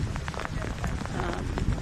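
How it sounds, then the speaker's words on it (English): Heavy rain pours down on a football ground during a women's first-grade match, a loud, dense, steady hiss of drops drumming on surfaces close by, with no pause. "Because it's raining quite heavily."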